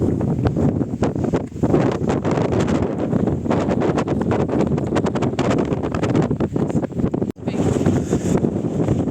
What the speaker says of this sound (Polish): Troszkę wieje.